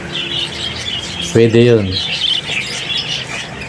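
A pet bird lets out a short burst of squawks and chirps, loud and close, while someone talks nearby.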